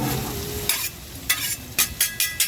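Spinach sizzling steadily on a Blackstone griddle while a spatula scrapes and stirs it in several quick, sharp strokes.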